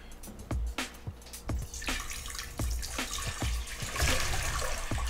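Two liters of water poured for a yeast starter, a continuous splashing pour with repeated low thumps and gurgles, close and fairly loud throughout.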